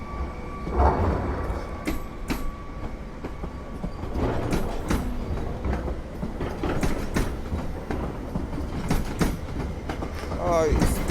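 Passenger train running through Warszawa Zachodnia station in winter, with steady rolling rumble, wheel clatter and clicks over rail joints, a brief squeal near the end, and faint station ambience throughout.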